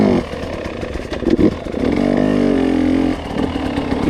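A motorcycle engine close by, revving up and down while a rider practices wheelies: a loud rough idle, a burst of throttle, then a sustained high rev that drops back near the end.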